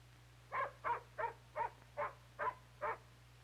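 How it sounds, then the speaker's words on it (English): A dog barks seven times in an even, steady rhythm, each bark short and evenly spaced, fairly faint over a low steady hum, in an old 1960s safety film. "looks like the Johnsons have a new dog"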